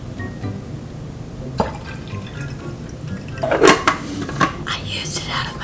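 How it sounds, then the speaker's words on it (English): Water poured from a drinking cup into the base of a moka pot, soft trickling and dripping with light metallic clinks, growing louder toward the end, accompanied by quiet whispering. "what we're going to be starting with is water at the base of the machine"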